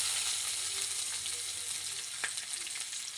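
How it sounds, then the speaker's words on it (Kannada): Whole cinnamon, cloves, cardamom and black peppercorns sizzle steadily in hot oil in a pan for chicken sambar, a continuous close frying hiss with a faint stir partway through and no voices. "ಫಸ್ಟು ಚಕ್ಕೆ, ಲವಂಗ, ಯಾಲಕ್ಕಿ, ಕರಿಮೆಣಸು ಇವೆಲ್ಲ ಹಾಕಿ ಫ್ರೈ ಮಾಡ್ಕೊಳ್ಳೋಣ"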